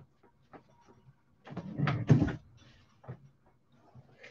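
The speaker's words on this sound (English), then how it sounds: "you're gonna hear some sounds of me moving things about and opening the door" Indoors at home, things are shuffled and moved about and a door is opened: faint scattered knocks and taps around a louder central burst of rattling and bumping, then quiet.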